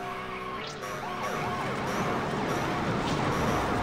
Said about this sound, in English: Nice, I got the sirens.